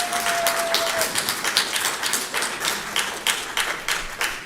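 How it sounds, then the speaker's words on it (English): An audience at a Brevard County Commission meeting claps steadily, a dense run of many hands patting at moderate volume for several seconds, with a brief faint tone near the start. "I don't want anybody clapping or booing."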